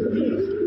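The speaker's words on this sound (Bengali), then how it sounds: "এখানে এক জোড়া black Lahori new running pair আছে" Black Lahori pigeons coo in a steady, low, continuous murmur close by, filling the whole moment without a break.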